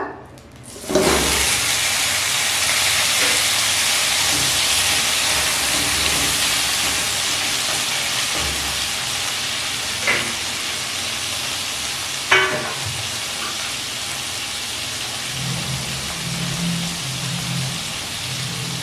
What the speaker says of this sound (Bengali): আলুর মতন করে পটল আমি ভেজে নেব।